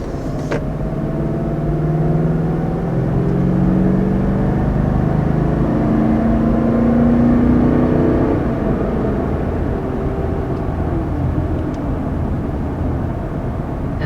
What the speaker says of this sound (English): And that right there is the sound of pure V8 muscle right there.